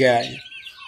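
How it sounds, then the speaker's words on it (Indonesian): An Arab chicken gives a brief, close cluck at the start, then a faint high chirp trails off in a small backyard flock. "Dan ini adalah ayam Arab"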